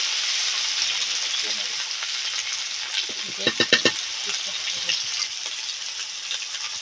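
Masala seasoned with salt and turmeric fries steadily in oil for a pangas fish curry, a continuous close sizzle broken by a short burst of louder stirring scrapes partway through.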